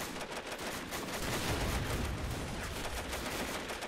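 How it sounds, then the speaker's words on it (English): Dense, continuous gunfire and artillery rounds landing near trenches in a WW1 video game, a loud crackling barrage with no pauses. "look at the artillery, how close these rounds are falling"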